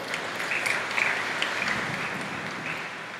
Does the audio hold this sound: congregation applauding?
yes